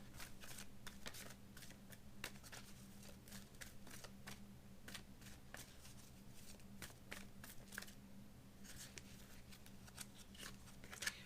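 Tarot cards being shuffled, a quick run of crisp riffling flicks and paper slaps, quiet and close, with no talking.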